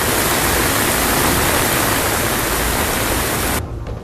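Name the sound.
floodwater rushing during heavy rain in Maharashtra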